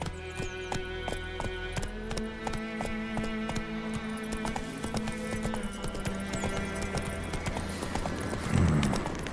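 Roach, the horse in The Witcher 3: Wild Hunt, gallops with a fast, steady run of hoofbeats over a continuous low game ambience, and a short snort or whinny near the end.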